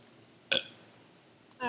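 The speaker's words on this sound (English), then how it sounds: "Burping Contest" Two short, loud burps in a playful burping contest, the first a brief rough blast and the second starting right at the end, with quiet room hush between them.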